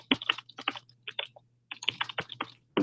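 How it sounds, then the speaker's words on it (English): Someone types questions into a chat on a computer keyboard in two quick bursts of sharp, close key clicks separated by a brief pause, with no talking. "I'm just typing in enter questions here"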